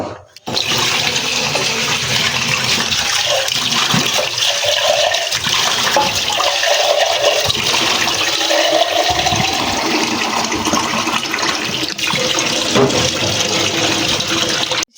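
Water gushes loudly and steadily from a tap in a home while hands are washed, a close, continuous rush that fades out at the very end.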